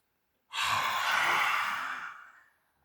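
One long, deep breath drawn close to the microphone during a Haka-style energising breathing routine, rising sharply and fading out over about two seconds, alone in silence.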